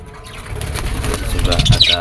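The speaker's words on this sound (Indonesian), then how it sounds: "Ini burung-burung saya" Pigeons inside a coop flap their wings in a brief flurry, with soft bird calls and rustling close by under a low, steady background.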